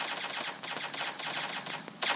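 Rapid gunfire in a zombie mode of a mobile shooting game, a fast stream of crisp clattering shots at moderate, fairly faint volume with brief pauses, ending in a louder burst.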